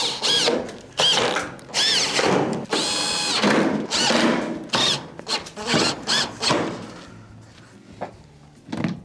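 A power driver runs screws back in around the perimeter of a Whirlpool electric stove's back cover, several short whirring bursts close by with brief pauses and small handling knocks between them.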